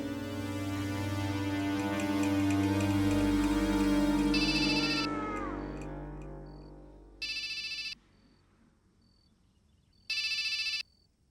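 Telephone ringing while a call goes through to a mobile phone: a steady electronic tone that fades, followed by two short repeated ring bursts with silence between them, clear and close with no talking.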